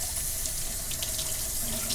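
Hot water pours steadily from a tap onto a live eel in a sink, a continuous close hiss and splash with no speech.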